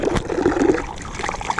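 Water trickles and splashes along a dirt bike trail, a close, continuous babbling flow with no voices.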